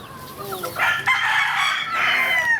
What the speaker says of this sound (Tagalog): ang dami ng manok dito